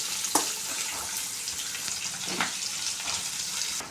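Curry leaves and salt frying in a pan for a curd rice dish, a close hissing sizzle with a couple of louder bursts as it is stirred, no talking.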